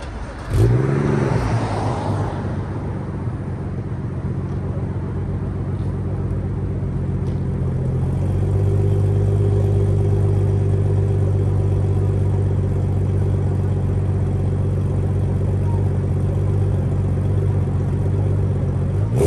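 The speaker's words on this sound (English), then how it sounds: "I'm gonna get you the startup right here." A BMW N55 engine with a catless ARM downpipe cranks and fires up, then settles into a loud, deep, rumbling idle that swells slightly around eight seconds and holds steady and close.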